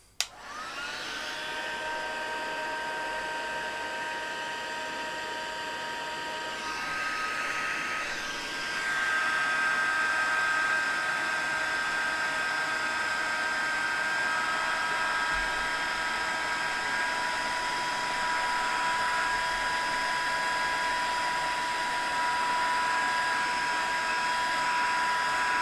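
An electric heat embossing tool blows hot air onto white embossing powder on a card, a steady loud whirring hiss with a high whine that starts abruptly, then swells slightly partway through and holds to the end.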